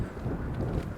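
Wind blowing across the top of a high hill on a predawn downtown walk, a steady low roaring rumble with gusty swells that stays loud and close for the whole second, with no talking.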